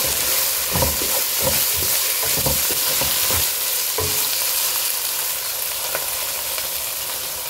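Chopped vegetables with salt sauté in a hot pan for tawa pulao, a continuous loud sizzle with scraping stir strokes during the first half, no voices.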